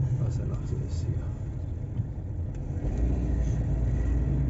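A car drives along a road in Side on the way to a Saturday bazaar, with a steady low engine and road rumble throughout and people talking inside the car.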